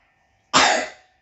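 A single short cough, close and clear, rising sharply out of near silence and trailing off quickly.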